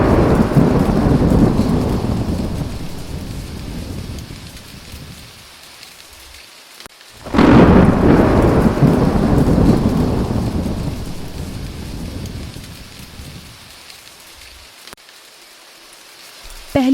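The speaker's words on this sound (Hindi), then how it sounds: "तभी अचानक जोरदार बारिश होने लगी" Heavy rain pours steadily while two loud thunder crashes roll through, one at the start and another midway, each slowly fading back into the downpour. It serves as a storm effect for a narrated story, with no voices.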